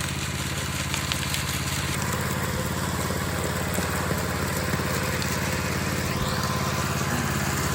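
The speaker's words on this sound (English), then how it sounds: "Round 2 with the power trowel." A gas-powered power trowel smoothing a concrete slab drones with a steady, loud small-engine buzz and a whirring rotor, running continuously up close without pause or talk.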